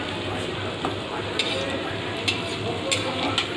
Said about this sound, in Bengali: এগুলো এক সাইড ভাজা হয়ে গেলে এবার এগুলোকে আমি উল্টিয়ে নেব।